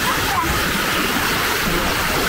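Water cascades off the white travertine terraces at Pamukkale into a pool below, a loud, continuous rushing splash close by that fills the whole clip without pause.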